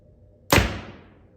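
A single sharp thud as a PSE Mach 34 compound bow, fitted with no stabilizer, looses an arrow, the impact ringing out briefly and decaying over about a second in a quiet setting.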